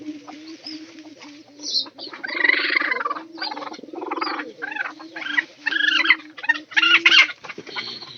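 Hens with young chicks cluck nearby in irregular bursts of clucks and short calls, some louder and sharper, over a quiet background.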